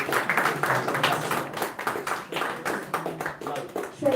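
Audience at a Sister Nivedita birthday celebration clapping to cheer a participant, brief scattered applause from a small group under speech.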